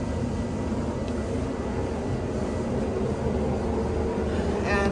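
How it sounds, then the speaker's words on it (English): Steady broadband cabin roar inside a CRJ Canadair Regional Jet in flight on a short hop from Phoenix to Yuma, Arizona, a constant engine and airflow drone with no talking. "I am on the CRJ Canada Air Regional Jet."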